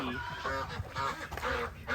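Ducks on a homestead quack in a short burst of overlapping, nasal calls close by, several quacks in under two seconds.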